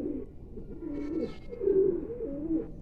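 Main breeder pigeon pair in a loft cooing softly, a few low rolling coos in quick succession, close but fairly quiet, with no talking.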